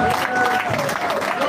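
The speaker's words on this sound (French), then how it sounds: "Est-ce qu'on peut applaudir pour" Audience applause at a political speech event, dense steady clapping from a crowd with a voice and sustained tone carrying over it throughout.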